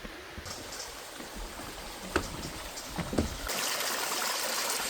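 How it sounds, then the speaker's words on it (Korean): A small mountain valley stream on Jirisan's Baekmudong trail flows with a steady, broad rushing wash, fairly close and continuous, with a few faint knocks and scuffs partway through and the water swelling slightly louder near the end. "이 작은 계곡 물소리가 지금은 아주 크게 들립니다."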